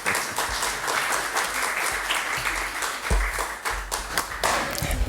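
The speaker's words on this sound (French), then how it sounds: "Très joli passage en effet, ça mérite ses applaudissements." Sustained applause from an audience, a dense continuous patter of many hands clapping for about five seconds, with a few louder individual claps and thumps standing out near the microphone.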